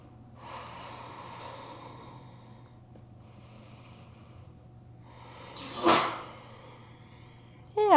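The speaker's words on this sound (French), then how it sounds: "On prend 3 longues respirations ici." Slow, deep breaths drawn during a held yoga backbend pose, soft and close with a louder breath near the end, over a faint steady hum, with no talking.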